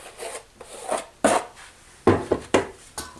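A quarter-by-quarter notched trowel spreads tile adhesive in a shower niche with a series of short, gritty scrapes and taps. The strokes are uneven, some sharper than others, and sound close.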